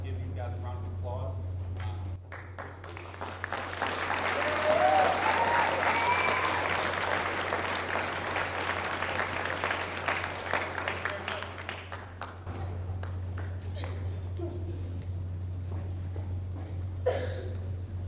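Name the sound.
audience applause at awards ceremony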